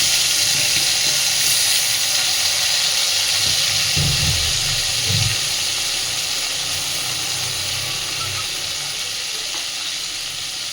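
Ground spice paste for potol posto cooking in a pan just after water is added, a loud, continuous steamy hiss and sizzle with a few low bubbling thumps that gradually eases.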